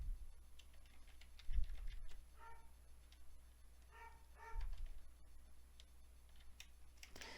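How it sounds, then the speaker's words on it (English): Soft, rapid keystrokes on a computer keyboard come in a few short bursts as a book title is typed, faint and close, with a low background hum and a couple of dull thumps. "here I'm just going to type a title."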